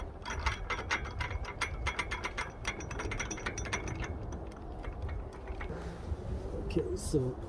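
A ratchet clicks in a rapid steady series while screwing a U-bracket onto a rooftop carrier basket on a 2023 Subaru Crosstrek, close and fairly loud, with a pause and a few scraping handling sounds near the end.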